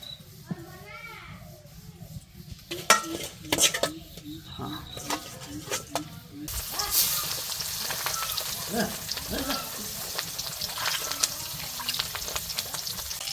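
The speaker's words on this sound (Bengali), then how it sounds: "এই পাশে হইল গিয়া মাছ আছে ভাজি করব" Fish fries in oil in a wok, giving a broad sizzling hiss that swells after the first few seconds and continues steadily beneath children playing and people talking.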